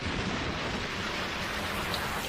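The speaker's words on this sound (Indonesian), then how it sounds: "Hujan deras." Heavy rain pours in a dense, constant hiss, loud and unbroken throughout, with no voices or other sounds over it.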